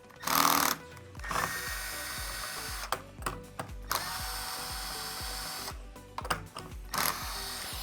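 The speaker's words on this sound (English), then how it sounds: "pull the 4 5/16 screws that go through the pump top into the motor off" A power tool drives out 5/16 screws that hold a Dometic Vacuflush pump top to its motor. Close, whirring bursts of the drill come in several separate runs, with clicks and handling noise between them.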